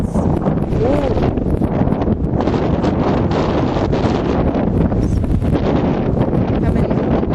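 Strong wind roars steadily across an outdoor flying field on a gusty day, a constant loud buffeting rumble that masks everything, with faint voices mixed into the gusts.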